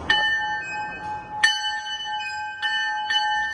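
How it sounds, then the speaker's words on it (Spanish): Brand-new bells from a railway substation ring out in clear metallic strikes, one loud hit followed by a quieter tap, then two more rapid strikes, each leaving a long bright ringing tone. "tenían unas campanas que estaban estrenando, ya que esas campanas eran de subestaciones"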